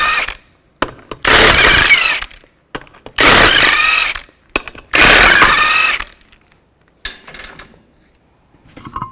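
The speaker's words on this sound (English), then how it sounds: "remove the wheel, use a 19mm socket, take the lug nuts off." An impact wrench spins lug nuts off the front wheel of a 2005-2010 Chevy Cobalt with a 19mm socket. Three loud, roughly one-second whirring bursts ring out close up, separated by quiet pauses and light clicks.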